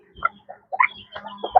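White Leghorn chicken clucking in short separate bursts, close and fairly loud, with a few brief pauses between the calls.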